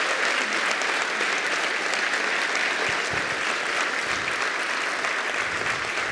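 Audience applause closing an Angular panel, a steady dense wash of many hands clapping at even loudness throughout, with no voices over it.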